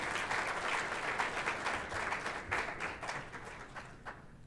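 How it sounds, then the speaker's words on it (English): A crowd at a University of Georgia Griffin fall graduation ceremony applauds steadily, a dense wash of many hands clapping at moderate distance that fades slightly toward the end. "Can we give Terry College of Business another round of applause?"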